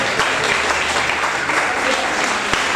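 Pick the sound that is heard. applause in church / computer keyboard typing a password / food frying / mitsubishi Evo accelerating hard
applause in church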